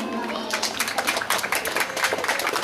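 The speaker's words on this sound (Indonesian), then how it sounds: "Berikan tepuk tangan yang meriah dulu" Applause from the audience at a school awards ceremony for top-scoring students, a dense burst of clapping that swells and carries on steadily for a few seconds.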